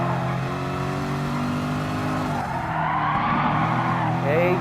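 A race car in Gran Turismo Sport laps Autodrome Lago Maggiore, its engine droning loud and steady with rising and falling pitch and a faint tire squeal near the end, while a voice comments over it.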